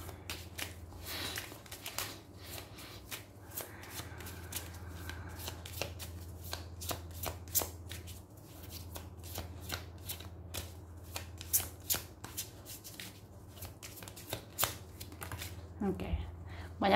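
Tarot cards are shuffled close up in a quiet room, making repeated crisp riffling flicks and soft slaps in irregular bursts. A faint voice speaks quietly underneath.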